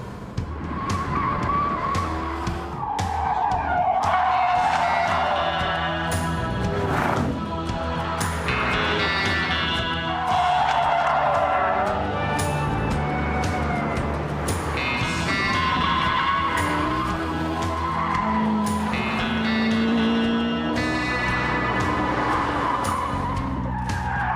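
A supercar driven hard, tyres squealing and skidding in long screeching slides over a loud, revving engine, with repeated surges and howls across the whole stretch.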